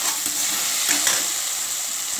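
Chopped cauliflower and vegetables sizzle steadily in a hot pan with a few scraping stirs, close and continuous, no voices.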